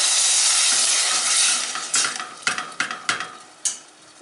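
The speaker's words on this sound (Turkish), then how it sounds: "Önce soğuk su ilave ediyorum. Bir su bardağı." A glass of cold water poured into hot roasted flour in a pot for chicken vermicelli soup, a loud hissing rush at first, then fading into a series of sharp stirring clicks against the pot.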